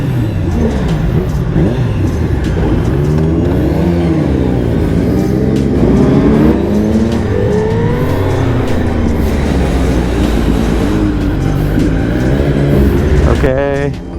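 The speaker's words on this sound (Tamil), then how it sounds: "டீம் ரைட் கிளம்ப ஆரம்பிச்சாச்சு. வண்டி புஷ்ஷுன்னு போக ஆரம்பிச்சாச்சு." Superbikes, including a Hayabusa, setting off together on a team ride, their engines droning and rising in pitch as they pull away, with loud overlapping motor noise and excited voices talking over it.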